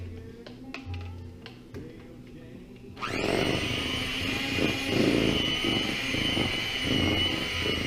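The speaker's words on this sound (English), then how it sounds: "I'm going to take this electric mixer here and I'm going to mix it in real quick" An electric hand mixer starts abruptly and runs continuously, whirring loudly as it mixes cannabutter brownie batter in a bowl, after a few quieter clinks before it switches on.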